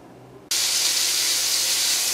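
After a brief quiet moment, a loud, steady hiss bursts up as filet mignon steak sizzles hard in a hot pan, continuing evenly without pause.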